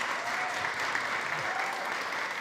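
Steady applause from a crowd, dense clapping at an even level throughout with no pauses.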